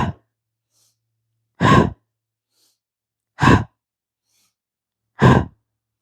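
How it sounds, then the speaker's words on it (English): Deep pranayama breathing in a chakra practice: three slow, full breaths, each a distinct airy inhale-exhale burst separated by about two seconds of silence, close and clear. "Full in, full out breath."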